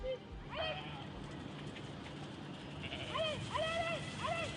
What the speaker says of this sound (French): Le quotidien de l'agriculteur et de ses moutons